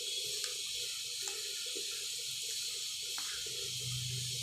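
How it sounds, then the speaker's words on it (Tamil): Water used to rinse a mixer jar is poured into a pan of curry for a biryani side dish, giving a soft continuous trickle and splash with faint background hiss. "இப்போ இதில் கொஞ்சம் மிக்ஸி கழுவின தண்ணியை ஊற்றிடுங்க"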